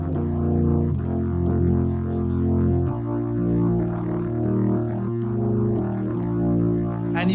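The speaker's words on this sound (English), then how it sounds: "And you've got that overdrive going on, the distortion." A sustained Yamaha reface YC electric organ plays chords with gritty overdrive distortion, steady and loud throughout with slow changes in the held notes.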